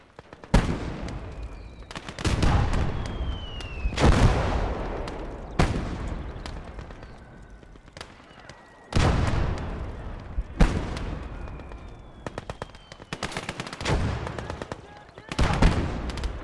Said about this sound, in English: This is why we have artillery.